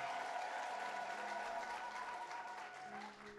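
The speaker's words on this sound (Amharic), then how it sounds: "አጨብጭቡለት ለጌታ ክብር።" A church congregation applauds together, a dense, steady wash of clapping that holds loud throughout and eases slightly near the end.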